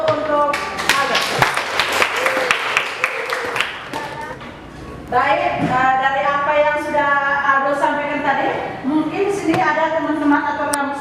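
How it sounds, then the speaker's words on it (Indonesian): A classroom group applauds a student, with sustained clapping under a teacher's voice that keeps talking, followed by several people speaking. "Ya kita kasih aplaus dulu"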